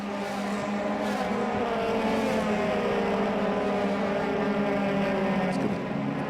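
A Euro Formula open-wheel race car roars steadily at Monza with a continuous high, loud engine note that shifts slowly in pitch as it passes, with no voices over it.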